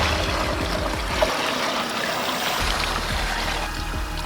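Muddy water poured off settled sand while making clay from dirt, a steady trickling, gurgling flow close by that runs continuously throughout.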